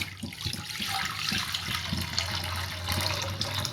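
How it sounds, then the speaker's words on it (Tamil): Watermelon juice poured into a clean kadai for watermelon jelly, a continuous close liquid splashing and gurgling stream heard alone without talk. "இப்போ நம்ம ரெடி பண்ணி வச்சுருக்க தர்பூசணி ஜூஸை வந்து இதில் சேர்த்துருவோம்"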